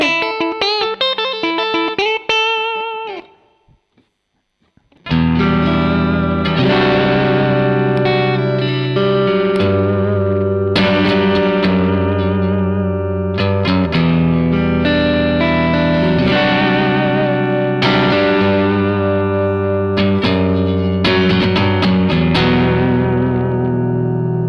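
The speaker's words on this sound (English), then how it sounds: "so much for me noodling around on this guitar" Loud electric guitar through a Schwarz Supercharger distortion pedal, a short picked phrase, a brief pause, then sustained crunchy chords ringing out with reverb.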